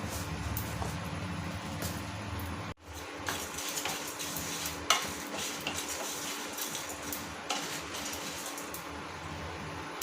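Cumin and fenugreek seeds dry roasting in a pan, heard as repeated metallic clinks and scrapes of stirring against the pan, close and moderately loud, with one sharp knock partway through and no talking.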